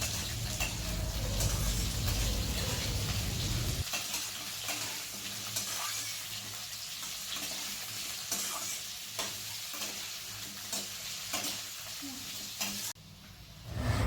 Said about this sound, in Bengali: এবার এখানে আমি পেঁপে দিয়ে দিচ্ছি। পেঁপেটা দিয়েও একটু সামান্য ভেজে নেব।